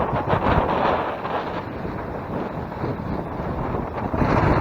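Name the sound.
strong wind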